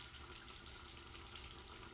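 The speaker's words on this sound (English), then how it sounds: "Let my water warm up a minute." A household tap runs steadily as the water warms up before a shave, a constant close splashing hiss with no pauses and no voices.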